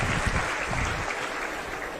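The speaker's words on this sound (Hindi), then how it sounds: "एक बार ताली बजा के हमारी टीम का हौसला बढ़ा दे।" Crowd clapping at an outdoor political rally in Haryana, a dense, even wash of applause heard from some distance and held at a steady level throughout.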